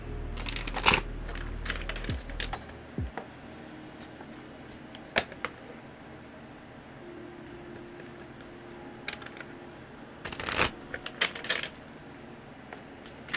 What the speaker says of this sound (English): I'm just going to do a little shuffle